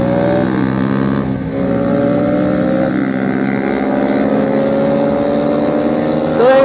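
A motorbike engine revs hard at a wheelie competition during a Sundarban ride, droning loudly and near with rising and falling pitch, then climbing in a final rev.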